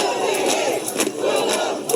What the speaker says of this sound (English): The crowd taking over the park and street, chanting, "This is what democracy looks like."